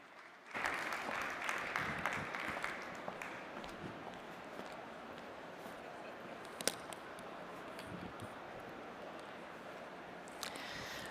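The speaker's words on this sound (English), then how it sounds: "A hand clap for Neptune." A live audience at an Entrepreneurship World Cup event breaks into applause, a broad wash of many hands clapping, faint and distant, that holds steady for several seconds and slowly thins.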